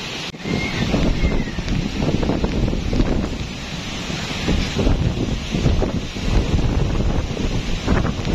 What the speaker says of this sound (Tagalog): kita-kita naman po ang lakas ng hangin